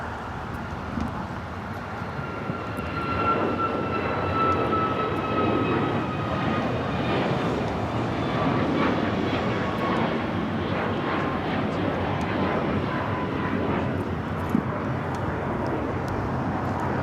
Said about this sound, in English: the Lufthansa Queen lining up for takeoff on the south side